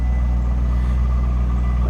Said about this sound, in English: Doesn't appear to sound like we have any crazy aftermarket exhaust, anything like that.